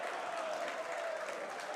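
A darts crowd at a WDF World Darts Championship quarter-final claps and cheers after a set win, a steady wash of applause and crowd noise running throughout, with a faint voice underneath.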